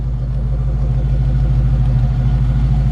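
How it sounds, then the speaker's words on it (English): A 1946 Chevrolet 1500 truck engine runs at a steady low idle close by, its deep exhaust burbling in an even, throbbing rhythm without any talk. "Great sounding engine. Really nice, classic exhaust sound."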